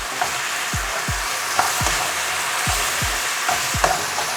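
Teriyaki sauce sweetened with honey bubbling and reducing in a pan, a continuous sizzle broken by several low thuds and scraping strokes, close and fairly loud with no talking.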